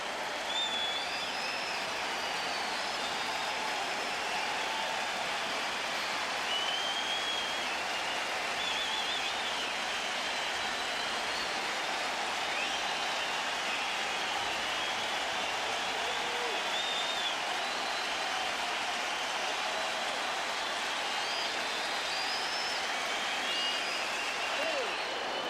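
Crowd of over 50,000 at Yankee Stadium during a Blue Jays vs Yankees baseball game roars in a steady, sustained wash of cheering with scattered whistles, broad and distant-sounding throughout.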